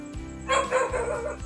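A dog barks at night near a spearfishing spot on the Philippine coast, a short burst of several close, fairly loud barks over steady low background hum.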